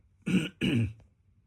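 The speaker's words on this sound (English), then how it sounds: "just can't seem to clear my throat today" Two quick, forceful throat clears close to the microphone, one right after the other, with near silence around them.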